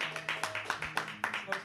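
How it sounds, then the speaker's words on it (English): Applause for a guest on a live comedy show, heard as a few hands clapping in a steady, quick rhythm, fairly faint, with a voice calling out over it. "Give a round of applause"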